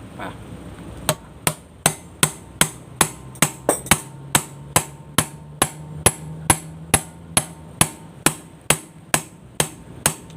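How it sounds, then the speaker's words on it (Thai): Steady metal hammer blows drive a bearing back into a model 1100 electric planer during repair, about two dozen sharp even taps at roughly two per second, close and loud, with no voices. "ใส่ลูกปืนกลับลงไปแล้วนะครับ เราก็ต้องค่อยๆนะครับค่อยๆ ตอกนะครับ"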